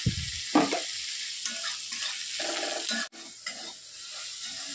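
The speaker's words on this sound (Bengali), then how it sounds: "এবার পেঁয়াজটাকে ভালো করে ভাজবো" Onions with cumin and salt fry in hot oil in a pan, giving a steady close sizzle and hiss, with occasional spoon scrapes and stirring clatter over the top.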